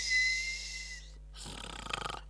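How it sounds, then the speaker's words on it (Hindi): A wife snoring as a comedy sound effect: a long rasping inhale, a pause, then a rattling, pulsing exhale that grows louder toward the end, heard alone and close. "वो तो बेगम खर्राटे ले रही हैं"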